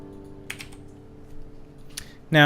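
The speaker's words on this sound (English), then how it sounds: "while I type in the name here" A few soft keystrokes on a computer keyboard while a player types a character name in Starbound, the clicks coming in small sparse clusters over quiet background hum before a louder burst at the very end.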